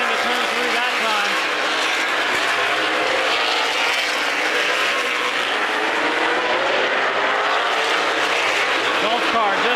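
Race cars roaring around the Midvale Speedway oval, a loud continuous engine drone that swells and fades as cars pass. An announcer commentates over it.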